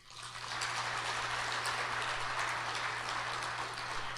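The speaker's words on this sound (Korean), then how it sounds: "다시 한번 큰 박수 부탁드립니다." An audience at an energy forum's opening ceremony applauds steadily, a dense wash of clapping that swells quickly and then holds evenly, heard from within the hall with no speech.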